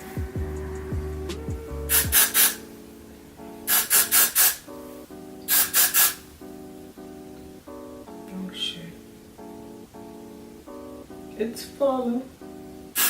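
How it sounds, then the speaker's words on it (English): Several short hissing bursts of aerosol hair spray, some in quick pairs, alternate with quiet gaps while a person speaks briefly and light rustling sounds. "I'm gonna spray some Freeze Blast."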